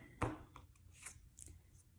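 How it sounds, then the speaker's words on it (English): Tarot cards being shuffled by hand during a reading, a short burst of riffling near the start followed by faint soft card rustles and taps in a quiet room. "Shuffle it real good."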